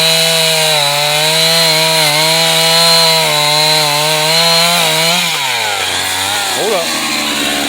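A chainsaw engine runs loud and close with a steady harmonic drone, then its pitch swoops down and back up as the throttle is blipped near the end.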